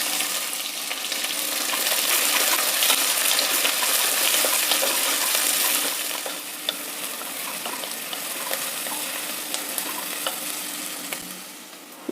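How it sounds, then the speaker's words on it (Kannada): Chopped onion dropped into a hot pan with roasted urad and chana dal for rava kichdi, giving a loud, steady sizzle and crackle that eases slightly halfway through, with no talking. "ಈಗ ಈರುಳ್ಳಿ ಹಾಕ್ತಾ ಇದ್ದೀನಿ."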